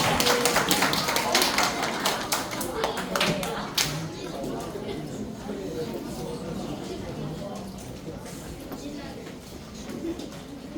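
A church congregation at a children's summer Bible camp service applauds as children come up to the stage. Dense clapping in the first few seconds thins out and fades by about four seconds, leaving a quieter room with low voices.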